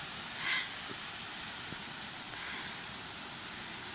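A waterfall on the Appalachian Trail gives off a steady, soft rushing hiss, heard from a distance with no voices.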